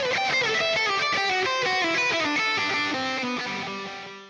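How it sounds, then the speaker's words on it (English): Electric guitar played through a Quad Cortex modeling a Soldano SLO 100 amp, a run of bright, harmonically rich picked notes stepping downward, loud and sustained throughout, then ringing out and fading at the end, with no voices. "now here we are on the new version of the Soldano SLO 100"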